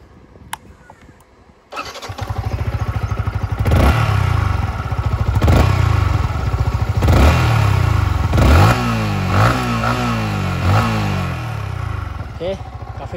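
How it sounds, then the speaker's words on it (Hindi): A 2022 Yamaha MT-15 V2.0 motorcycle starts up and idles loudly nearby, then revs several times in rising and falling surges before settling. "मैं आपको एक बार इसका एग्जॉस्ट सुना दूं।"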